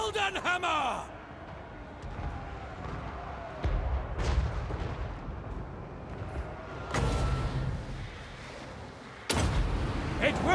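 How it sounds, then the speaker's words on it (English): Great cannons firing in the battle game Total War: Warhammer 3, heavy booming blasts landing at intervals amid a busy battlefield din, with loud sharp reports near the start and end. "Using great cannons against me."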